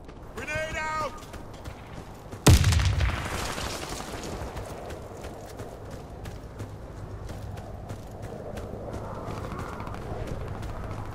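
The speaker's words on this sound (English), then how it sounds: "Grenade out!" A grenade going off in the Warface video game, one sudden loud booming blast with a rumbling decay, following a short radio-style voice line and sitting under a steady bed of game noise.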